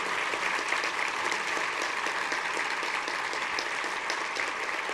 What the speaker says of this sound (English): I think we should give a round of applause to Barry and all of our good friends in the NKU Foundation.